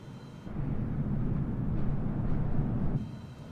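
Simulated Cessna 172 piston engine droning steadily in flight, a broad low rumble that swells in louder for a few seconds, then drops back to a quieter hum, with no voices over it.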